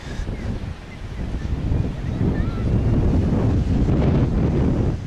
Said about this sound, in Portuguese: Estou na praia.